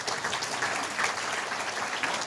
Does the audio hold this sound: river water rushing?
no